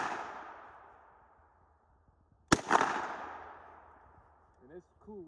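A single sharp gunshot from a KRISS Vector Gen II rings out close and loud, leaving a long echoing decay, with a voice heard faintly near the end.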